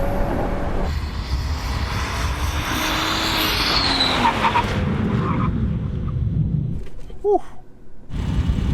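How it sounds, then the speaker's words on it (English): A 2018 BMW M240i brakes hard from 60 mph on open pavement, with a steady broadband roar of road and tire noise and a rising squeal, then the car stops and the sound drops away near the end. "once I get to 60 and then slam on the brakes as hard as I can"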